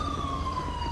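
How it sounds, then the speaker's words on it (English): A police siren wails steadily in the GTA V video game, a sustained electronic tone that stays loud and continuous with no talk over it. "I hear sirens."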